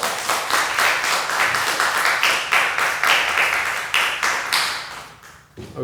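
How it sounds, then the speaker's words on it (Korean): A church congregation clapping in welcome, loud and close, with rhythmic group claps in a steady beat that fade briefly toward the end. "박수로 환영하겠습니다."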